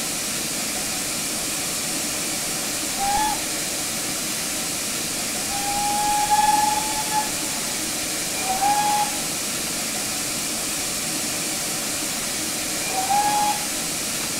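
A steady hiss of steam fills the background while a GWR Saint steam locomotive whistle sounds in Train Simulator several times, one longer blast in the middle and shorter toots around it.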